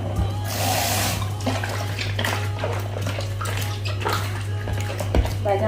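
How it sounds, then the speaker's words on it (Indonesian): Chinese red dates rinsed under running tap water in a kitchen, a steady loud rush of water with light clinks of dishes and a constant low hum underneath. "bahan kurma merah kita cuci juga."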